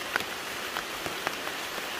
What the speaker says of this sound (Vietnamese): Hiện bây giờ trời vẫn là đang mưa